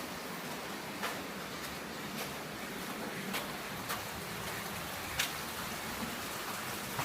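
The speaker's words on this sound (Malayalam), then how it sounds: "ഉച്ചകഴിഞ്ഞൊരു മഴ." Afternoon rain falls steadily as an even wash of hiss, with a few sharper drip clicks scattered through it and no voices.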